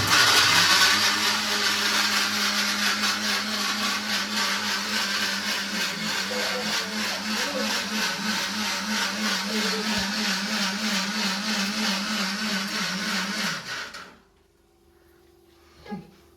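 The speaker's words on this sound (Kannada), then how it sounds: "ಮಿಕ್ಸಿ ಆನ್ ಆಗಿದ್ದಕ್ಕೆ ನಮ್ಮ ಮಗನ ರಿಯಾಕ್ಷನ್" A kitchen mixer grinder whirs loudly and steadily for about fourteen seconds, then cuts off abruptly, leaving quiet room tone and a small knock at the end.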